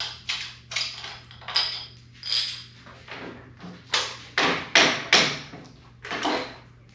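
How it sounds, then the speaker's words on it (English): Metallic clanks and ratcheting scrapes come from work removing two bottom bolts on a 1986 Harley-Davidson FXRS front end, a series of irregular, close tool strikes and wrench clicks over a faint steady hum. "we'll take the 2 bolts off the bottom"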